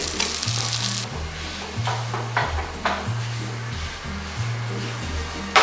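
Butter sizzling in a pan as a homemade beef steak fries, a close, continuous crackling hiss with a low rhythmic hum and occasional light scraping.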